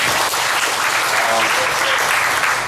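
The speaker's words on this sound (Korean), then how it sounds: "우리 미래가 되고 있는 우리 친구들에게 응원의 박수 한번 주시죠." A church congregation at a Sunday school teachers' dedication service claps loudly and steadily throughout, a dense wash of many hands with no break.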